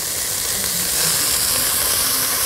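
Garlic hits a hot pan with celery and greens already in it, producing a loud, steady sizzle and hiss that runs without a break.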